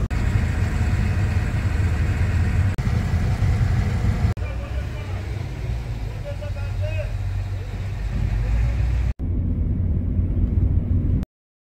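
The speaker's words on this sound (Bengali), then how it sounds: "আমরা এখন বোটে আছি, এই যে বোটে উঠলাম এইমাত্র ছেড়ে দিল বোট" A boat's engine gives a steady low rumble as the boat pulls away near Kalyani Bridge, loud and continuous with a few abrupt cuts; a voice talks over it.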